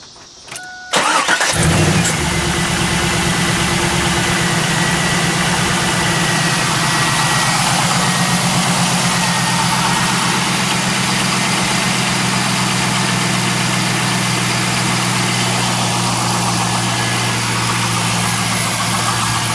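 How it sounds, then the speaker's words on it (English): A 2001 Pontiac Trans Am WS6 engine turns over and catches, then settles into a steady, smooth idle with a low, even exhaust rumble that continues unchanged, close and loud. "I'm going to listen to the exhaust note at idle"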